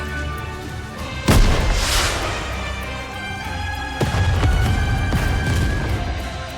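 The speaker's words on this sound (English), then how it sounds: "a shell flies from the rocket launcher. And a resounding explosion causes the entire snowfield to be blanketed in thick plumes of white smoke." A rocket launcher shell explodes in a video game set on a snowfield, with two loud booming blasts, one near the start and another a few seconds later, each trailing off into a dense rumbling wash.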